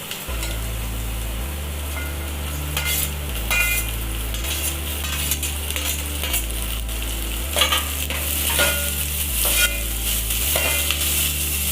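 Tomatoes sizzle loudly in a hot pan for dal khichdi while a spoon stirs and scrapes repeatedly, with a steady frying hiss and clinks of the utensil against the pan.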